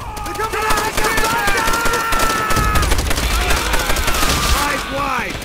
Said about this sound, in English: Sniper fire!